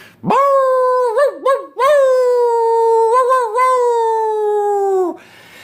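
A human voice imitates a dog's howl: a long, sustained wavering howl with brief breaks and yips, close and loud.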